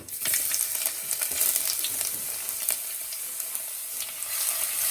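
Fenugreek, mustard seeds, ginger and garlic fry in hot oil for a Kerala-style dried fish mango curry, with a dense, continuous sizzle and scattered popping crackles close up and no talk.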